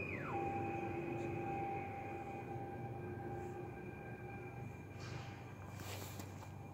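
A train at Łódź Widzew railway station in Poland hums and rumbles steadily, with sustained tonal whines over it and short bursts of hiss toward the end.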